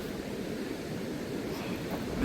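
Sea waves wash onto an empty beach on the Konkan coast, a steady, soft, continuous rush of surf with wind-like hiss and no distinct individual breakers.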